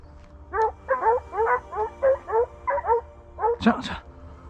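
Hunting dogs bay in a cornfield during a driven roe deer hunt, a rhythmic run of about ten yelping cries at moderate distance, ending in a louder, closer burst.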